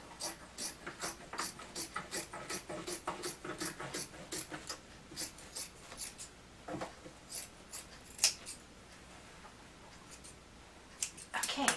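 Scissors snip through upholstery fabric while a cocktail ottoman is being trimmed, a steady run of close, crisp cuts in quick rhythm with brief pauses between strokes.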